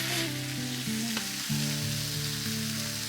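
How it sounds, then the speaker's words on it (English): Bacon frying on an electric griddle top, a steady close sizzle running throughout with a few louder crackles and pops, heard alone. "we're going to put some bacon on my griddle"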